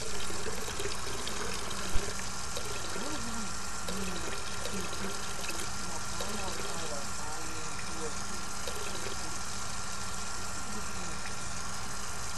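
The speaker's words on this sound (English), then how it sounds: "Alright, put in more water." Steady game water pouring in Hello Neighbor, a constant broadband rush that runs through the whole stretch with one brief knock near the start, while a voice talks faintly over it.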